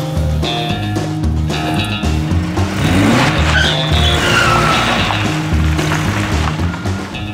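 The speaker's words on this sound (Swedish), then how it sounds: "Ändå starta bilen och så börjar du köra sakta framåt." A car pulls away with tires skidding and squealing, a loud, continuous roar of engine and screeching rubber that fills the whole stretch with no talking.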